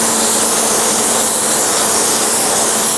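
A paint spray gun laying black base coat onto a wheel during curb rash repair, giving a loud, steady, unbroken hiss of atomized air with no talking.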